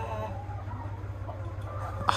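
Chickens on a farm cluck softly in scattered short calls over a steady low hum, with one sharper squawk near the end.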